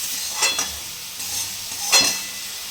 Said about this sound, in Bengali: এটা আমি কষে নেব, মশলাটা কষে নেব আমি।